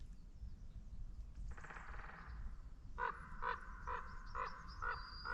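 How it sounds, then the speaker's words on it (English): A common raven calls on a misty winter morning: about six hoarse croaks in a steady rhythm, fairly close and clear over a low background rumble, with no talk. "That was a raven, common raven"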